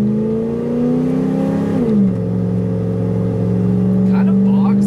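A Ford 460 V8 engine drones at steady revs, dips briefly as it bogs, then settles back into a loud continuous run, close and alone.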